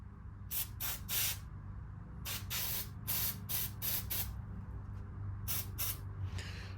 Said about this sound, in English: I'm going to spray carb cleaner.